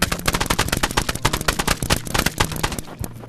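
Paintball guns in Rec Room fire in fast, loud, close bursts of sharp pops, almost continuous with brief gaps near the end.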